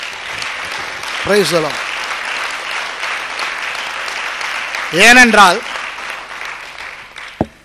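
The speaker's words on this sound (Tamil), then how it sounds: "அப்படியா இருந்தால் ஆண்டவருக்கு ஒரு கரகோஷத்தை கொடுப்போமா?" Sustained applause from a church congregation during a Tamil sermon on the Second Coming, steady throughout, with a voice speaking over it twice and a brief sharp knock near the end.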